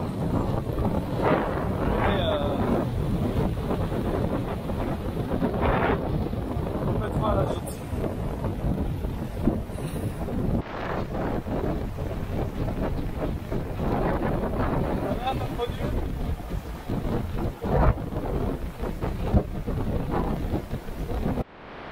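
Strong wind roars steadily across the microphone aboard a sailboat at sea off Guadeloupe, with water rushing and splashing beneath and a voice talking under the gusts.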